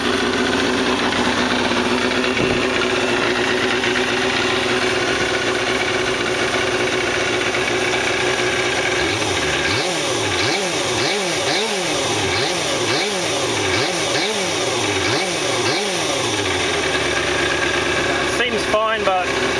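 A Kawasaki ZXR250 motorbike idles continuously while warming up, a steady close buzzing engine note with rhythmic revving swells and dips partway through.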